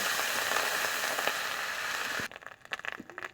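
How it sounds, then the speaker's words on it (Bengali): Onion paste fries in oil in a pan with a steady dense sizzle for about two seconds, then quieter irregular crackles and pops as the frying settles. "এরপরে পেঁয়াজ বাটা দিয়ে ভালোভাবে আস্তে আস্তে করে কষিয়ে নেব।"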